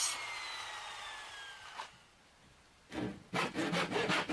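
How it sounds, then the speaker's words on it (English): Sanding a cedar strip boat bottom with 80 grit sandpaper, heard as rough wooden rubbing strokes: a long scrape to start, a pause, then several short bursts near the mic. "I'm just going to go around with an 80 grit, concentrating on the toe with a sander, and just sand the whole bottom down"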